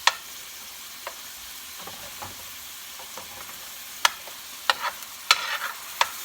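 Garlic parmesan chicken sizzles quietly in an oversized frying pan on a burner, broken by scattered sharp pops and crackles that grow more frequent toward the end.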